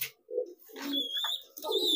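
A pigeon coos close by in a few soft, low, throaty bursts, with faint higher chirps from other birds in between.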